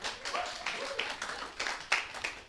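A small audience clapping in a scattered, uneven burst of hand claps, moderately close, with no one speaking over it.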